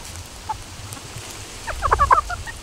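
A single cluck from tame, laid-back chickens, then after a pause a quick cluster of close, overlapping clucks near the end, with no voices.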